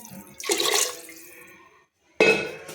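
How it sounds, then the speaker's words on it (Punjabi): Water poured into a pan of rajma curry being cooked, in two close splashy pours: a longer gush, a brief pause, then a second sharp pour. "ਆਪਾਂ ਹੁਣ ਇਹਦੇ ਵਿੱਚ ਪਾਉਣੇ ਆ ਥੋੜਾ ਜਿਹਾ ਪਾਣੀ"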